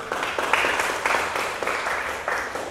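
A congregation at a Christian revival service in Lubuk Pakam, North Sumatra, applauds and cheers, the clapping dense and sustained with a few rhythmic swells of louder bursts throughout.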